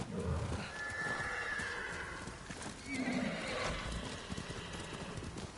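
Horse in the video game Ghost of Tsushima, whinnying clearly while its hooves clop steadily, heard fairly faint under game ambience.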